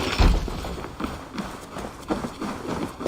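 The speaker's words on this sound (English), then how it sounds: "Basim, Eivor, to horse!" Horse hooves gallop in the Assassin's Creed Valhalla video game, a rapid rhythmic run of thudding clip-clop beats, close and fairly loud, with faint speech mixed in.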